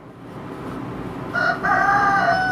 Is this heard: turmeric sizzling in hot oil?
no